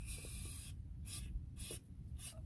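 An aerosol spray can hisses in several short bursts while a rear differential cover gasket is replaced on a 2004 Chevy Z71, the sprays close and steady with pauses between them.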